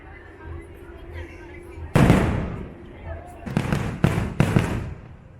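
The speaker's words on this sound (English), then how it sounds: "This is what fireworks look like from Batuu, and it is incredible." Fireworks at Disneyland's Batuu land boom in a series of sharp, loud bursts, one big blast followed by several quicker pops, over a low murmur of crowd noise.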